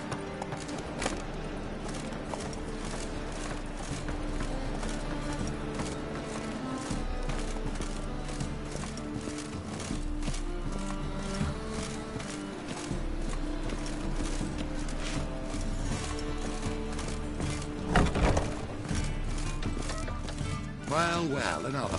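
Geralt's horse Roach from The Witcher 3 trots with a steady clip-clop of hooves that runs throughout, mixed with game music and ambient sound.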